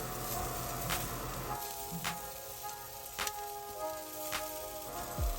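Chorizo sausages for choripán sizzle on a grill with a steady, close crackling hiss. Sharp pops and clicks break through about once a second.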